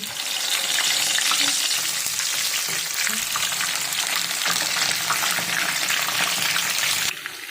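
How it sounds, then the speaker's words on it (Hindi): Bitter gourds (karela) stuffed with minced meat and wrapped in thread fry in hot oil, giving a loud, dense, continuous sizzle and crackle from start to finish, with no talking. "ये मैं फ्राई करने लगी हूँ"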